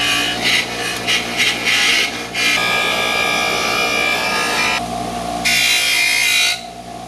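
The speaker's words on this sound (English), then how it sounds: "I want to go put this on a wire brush wheel real quick." Wire brush wheel scrubbing a car part from a 1986 Cadillac funeral car: a steady, loud whirring grind with bursts of harsh scraping as the part is pressed in and pulled away, no talk.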